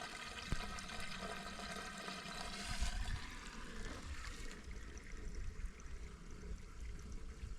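Water drains from a wicking garden bed being emptied for winter, a steady rushing, trickling flow heard close and continuous, with no voices.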